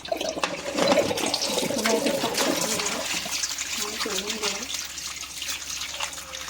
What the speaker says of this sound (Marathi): ते 2-3 वेळापर्यंत आपल्याला हे साल काढलेले बटाटे धुवायचे.